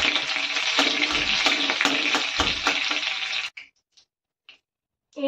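Dried red chillies crackle and sizzle loudly in hot oil for several seconds, then the frying cuts out, leaving near silence with a few faint clinks.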